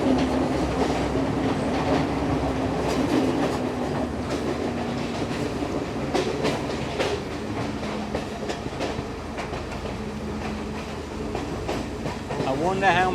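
A passenger train runs on the Colombo to Kandy line with a steady rumble and rhythmic clickety-clack of wheels on rails, heard from inside the carriage, with faint voices and a brief squeal near the end.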